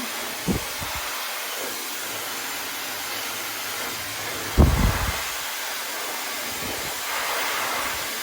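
A hair dryer on low heat runs as a steady, close whoosh while drying and stretching natural hair at the roots, holding a constant level with a brief thump midway.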